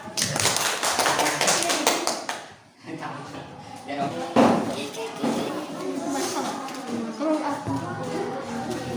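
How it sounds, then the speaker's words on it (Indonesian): Schoolchildren doing a scout clap in a classroom, loud rhythmic group claps in quick patterns, mixed with voices chanting and talking throughout. "Kalau disebutkan tepuk pramuka"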